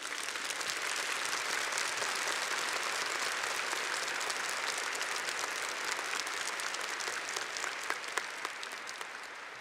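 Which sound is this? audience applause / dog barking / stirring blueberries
audience applause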